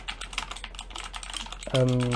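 Fast clacking keystrokes on an Ajazz AK33 mechanical keyboard, a dense, close run of clicks that gives way to a short sustained tone near the end.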